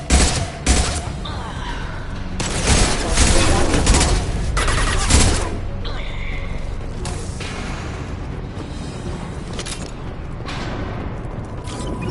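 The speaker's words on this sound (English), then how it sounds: "Firing a high-impact shot!" Gunfire in the Mass Effect 2 video game breaks out in loud bursts of shots and booms at the start, then thins into scattered distant firing over a low rumbling backdrop.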